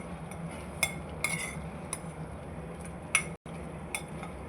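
A spoon stirs jackfruit seed gojju in a pan, giving scattered light metallic clinks and scrapes over a steady low cooking hiss, with no voices.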